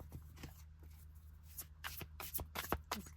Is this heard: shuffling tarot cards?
yes